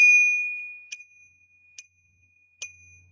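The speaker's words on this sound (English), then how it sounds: "who needs a bell for their bicycle? Yeah, it's a bell." A small ladybug-shaped bicycle bell rings three times with bright, clear dings about a second apart, following a faint sustained tone at the start.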